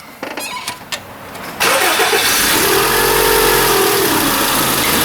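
A Honda Civic with a non-working air conditioning system cranks and catches after a few faint clicks, then settles into a steady, loud idle close by.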